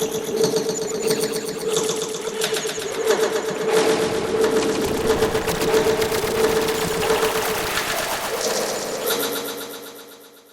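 A car sound sample plays back on its own for about ten seconds, a loud, steady, rapidly pulsing mechanical rattle with a sustained engine-like tone that fades out at the end.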